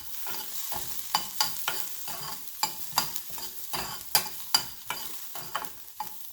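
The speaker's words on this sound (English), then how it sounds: "They just need to be sauteed for a little while." Vegetables sauteed briefly in a pan for spicy Chinese mixed-vegetable fritters: a steady soft sizzle broken by repeated sharp scraping stirs of a utensil against the pan, close and fairly loud, with no talking.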